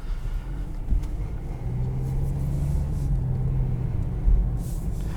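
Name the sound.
2021 Volkswagen Jetta SE car driving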